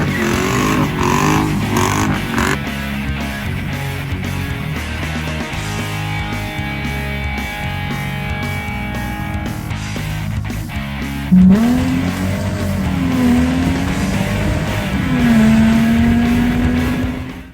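Mercedes CLK55 engine running loud and close, with a steady throbbing idle that rises into revs and a whining tone near the end; no speech.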